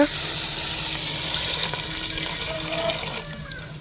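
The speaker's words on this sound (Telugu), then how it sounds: "మనం ఎసురు సరిపడా నీళ్లు పోసుకున్నాం" Water runs steadily from a tap into a pot of spiced kichidi, a close, even rushing stream that gradually softens toward the end.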